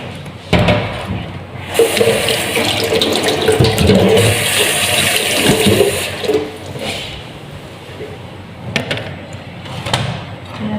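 Vegetables for a baby's squash porridge being washed under a running tap, a loud, close rush of water with splashing that eases midway, followed by a few sharp knocks and clatters.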